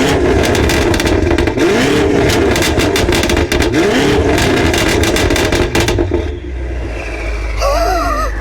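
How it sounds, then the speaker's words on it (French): A prototype car engine is blipped hard several times, loud close revs rising and falling in quick succession before it drops back to a rough idle, with a brief voice near the end. "on va mettre quelques coups de gaz"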